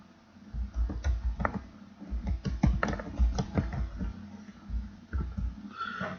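Fingers typing text on a computer keyboard into a WordPad file, close and clear, with quick bursts of key clicks separated by short pauses, no talking.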